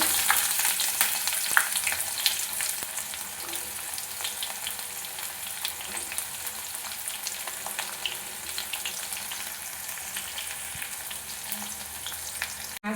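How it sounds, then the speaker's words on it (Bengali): Chopped onion is fried in hot oil with a bay leaf and a dried red chilli while making ghugni. A steady, close sizzle with crackling pops continues for the whole stretch, with occasional stirring and no voices. "ভাজা হয়ে গেলে ফোড়নটা এর মধ্যে দিয়ে দেবো পেঁয়াজ কুচি"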